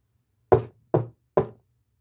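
Three firm knocks on a door, evenly spaced and close, each a sharp wooden thud that decays quickly into silence.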